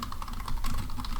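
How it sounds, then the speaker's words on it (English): Rapid typing on a computer keyboard, a dense run of close, quiet clicks lasting about a second, with no talk. "typing."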